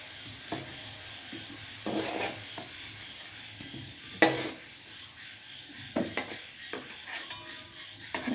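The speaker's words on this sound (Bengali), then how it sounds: "গাজরটা আমার ভাজা হয়ে গেছে।" Carrots frying in a pan give a soft, low sizzle broken by scraping stirs and several sharp knocks of a utensil against the pan.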